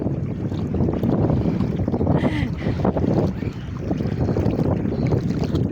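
A boat motor runs on open water off a beach camping site in Zambales, a steady low engine drone mixed with wind buffeting the microphone and the wash of water, holding at fairly constant loudness throughout.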